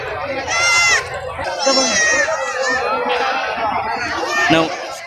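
Goats and kids bleat repeatedly at a village goat market in Samayapuram, Tamil Nadu, their loud, close cries overlapping with a crowd's chatter and people talking nearby.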